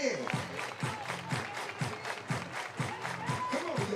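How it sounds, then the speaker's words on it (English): Crowd at an NCAA softball game between Virginia and Duke claps in a steady rhythmic beat, moderately loud with general stadium crowd noise and some talk mixed in. "Please, everybody clap your hands."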